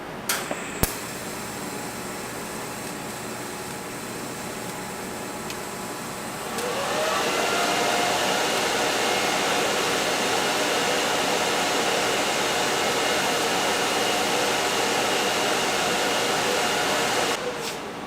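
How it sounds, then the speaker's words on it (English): Arc welding on a Ford Mustang with a turbocharged LS swap makes a long, steady crackling hiss that starts partway in and runs unbroken for about ten seconds before cutting off, close and fairly loud after a quieter hum. "So that was my longest ever weld I've ever done."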